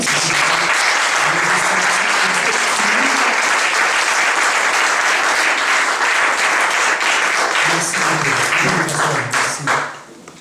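A church congregation applauds to acclaim the Lord, with loud, sustained clapping from a large crowd, steady for about nine seconds before fading out, with a voice faintly beneath it.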